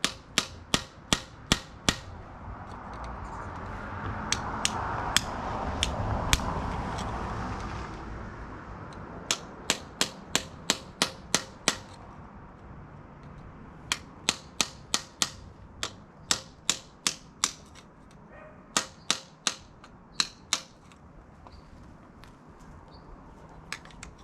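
Chisel struck repeatedly against a metal part of a radial drill press during restoration, sharp close taps in fast clusters with short gaps, over a faint background hiss.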